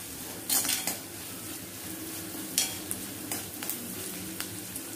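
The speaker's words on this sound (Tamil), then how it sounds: "இது ஒரு டிரான்ஸ்பரண்ட்டாக வர வரைக்கும் வதக்கிக்கலாம்." Onions sauté in a pan for fried rice, a soft steady sizzle broken by several sharp clinks and scrapes of a utensil against the pan.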